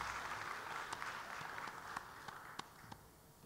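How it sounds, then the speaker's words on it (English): Applause from the crowd at a cosplay championship for a cosplayer, fairly faint and somewhat distant, a light patter with a few sharper individual claps standing out. "another round of applause for Callum playing Renya from Code Geass Gaiden"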